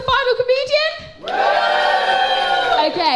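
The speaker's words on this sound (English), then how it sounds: "Give me an even louder cheer if you're excited for the final comedian." An audience at a comedy show in the Tobacco Factory breaks into a loud, sustained cheer of whoops and yells, rising sharply after a few brief voices and holding full and close to the end.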